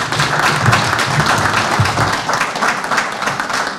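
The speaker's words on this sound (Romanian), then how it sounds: "v-aș ruga să-l aplaudăm" An audience claps at an event, a dense and steady patter of applause from many hands throughout, fairly near and loud.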